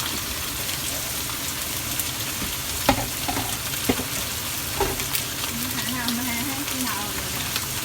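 Red snapper-type fish frying in a thin layer of oil in a pan for pumpkin fish soup, with a steady close sizzle and a few sharp spits and pops of oil, and a voice speaking briefly over it.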